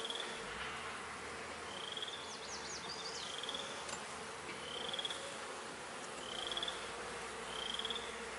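Bees hum in a dense, continuous drone around a hive, with occasional louder buzzes as individual insects pass close by.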